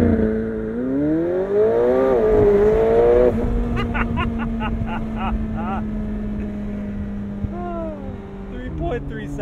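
A McLaren 720S Spider launches hard under launch control, its engine rising in pitch through rapid upshifts with sharp gear-change breaks, loud and close from inside the cabin, then settling to a steady drone.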